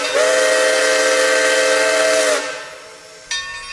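Whistle of 2-8-2 steam locomotive number 30 on the Texas State Railroad: a loud, steady chime tone held for over two seconds, fading into a hiss of escaping steam, then a second sharp burst of hiss near the end.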